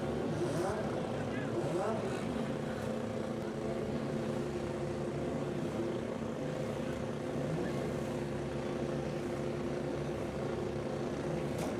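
A 5-cylinder Ford Mustang race car runs down the straight of a hill-climb style top-end run, its engine a steady, dense droning roar that holds constant at a middle distance throughout, with no talk over it.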